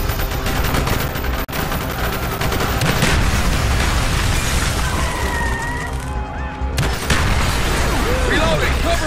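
Call of Duty Black Ops street battle with dense automatic gunfire, shotgun blasts and explosions, loud and continuous, mixed with game music and shouted voices.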